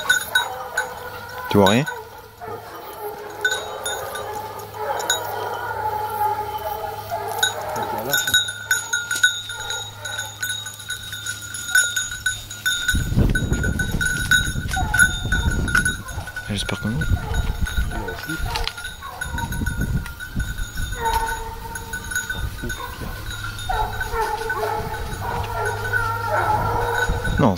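Goats bleat intermittently amid a busy outdoor scene at a wild boar hunt, with people talking nearby and scattered clinks and rustling throughout.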